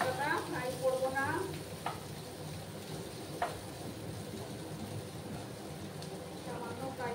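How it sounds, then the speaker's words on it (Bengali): Drumstick vegetable and potatoes frying in a pan, a soft steady sizzle with occasional stirring scrapes and clinks, fairly quiet and close, with brief faint voice-like sounds. "সজনে ডাঁটার আলুগুলোকে একটু ফ্রাই করে নিচ্ছি।"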